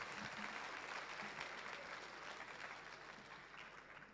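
An audience at the Herald NMU Citizens of the Year 2025 awards gives a warm round of applause, full steady clapping that gradually fades toward the end.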